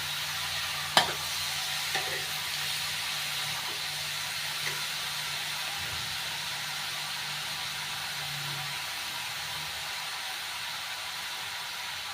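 Low, even sizzle of pumpkin frying in oil with onion in a pan, with a sharp clink early on and soft scraping from stirring, all fairly quiet.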